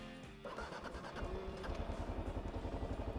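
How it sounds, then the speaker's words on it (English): A KLR 650 motorcycle engine at a remote campground cranks briefly, then catches and settles into a steady, close, throbbing idle with regular pulses. "Good to hear that engine start up, especially when it's such a remote campground."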